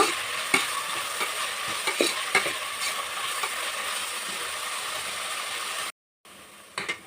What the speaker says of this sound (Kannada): ಗೋಲ್ಡನ್ ಬ್ರೌನ್ ಬರೋ ತನಕ ಫ್ರೈ ಮಾಡ್ಕೊಳ್ಳೋಣ.